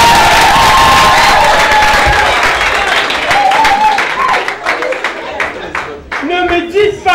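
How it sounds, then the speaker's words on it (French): Applause and cheering from the audience at an academic opening ceremony at ISTI, loud clapping with scattered whoops that gradually thins and fades, with voices emerging toward the end. "Applaudissons pour nous"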